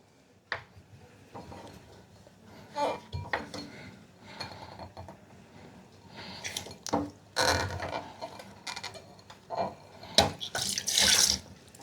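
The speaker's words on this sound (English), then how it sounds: "I took the stopper out and so much of water is gushing out." Water splashes and gushes out of the drain pipe of a front-load washing machine in irregular surges, with small clunks and handling noises between the bursts, fairly close and without talk.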